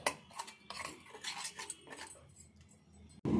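Wheat flour uttapam batter with a spoonful of upma rava being mixed in a bowl with a spoon, quick bursts of clinking and scraping against the vessel, close and without speech.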